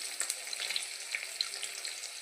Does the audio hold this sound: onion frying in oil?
yes